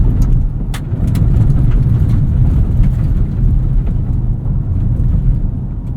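A 2022 Hyundai Tucson XRT AWD driving on a rough Michigan road, heard as a continuous loud low road and engine rumble from inside the cabin with occasional knocks and thumps.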